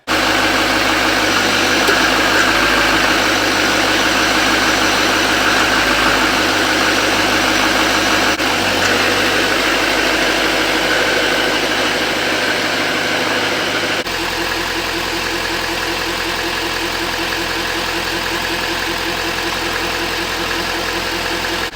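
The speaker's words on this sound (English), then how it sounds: "But nice, fired right up," A Duramax diesel truck engine fitted with a 10-blade turbo idles steadily for the whole stretch, a loud, close, even rumble with a slight shift in tone partway through.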